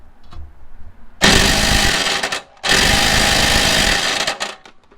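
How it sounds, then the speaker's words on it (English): A pneumatic impact wrench undoing a bolt on a PT Cruiser's rear suspension, two loud, close, rattling hammering bursts of about a second each separated by a short pause, with faint handling noise before, no talking. "get the impact wrench into that space and start undoing the bolt"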